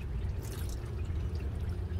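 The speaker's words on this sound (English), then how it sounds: "Right through the hole she was dripping water." Water drips and trickles steadily through a hole in the front of a 2004 Chevy Trailblazer 5.3-litre engine at the water pump, a continuous close splashing patter with no voices.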